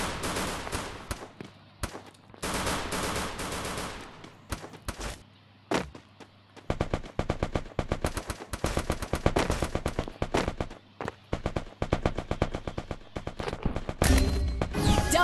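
Video game gunfire: loud, sharp automatic bursts and single shots come in dense clusters with short quiet gaps, close and punchy, ending in a heavier barrage with no speech over it.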